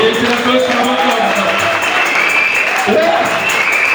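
A church congregation applauds loudly and continuously as a dense, close wash of clapping, with voices calling out over it.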